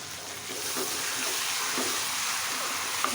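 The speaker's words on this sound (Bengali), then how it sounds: "এখন আমি মাংসটা দিয়ে দিলাম" Marinated goat meat hits a hot pan and sizzles in a steady, dense hiss that stays loud and close for the whole stretch, with a faint pop near the end.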